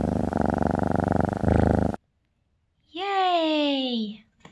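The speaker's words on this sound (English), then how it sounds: "The cat purrs." A happy cat purrs in a steady, close, low rumbling pulse for about two seconds, then after a short silence a high, gliding, voice-like call rises and falls.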